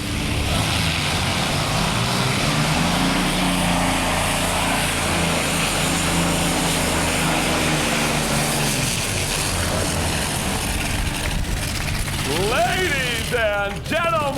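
A pulling truck or tractor engine of about 6,000 horsepower at a truck and tractor pulling competition in Manitoba, a loud continuous roar that steadies and then shifts, with a crowd and announcer audible over it.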